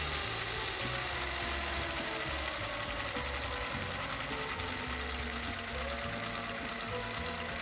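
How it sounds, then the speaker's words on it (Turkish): A model diesel engine idles with a fast, continuous mechanical chatter, a steady rattling throb with no voices over it. "Şu anda dizel motorumuzun rolanti çalışma prensibini görüyorsunuz diyebilirim."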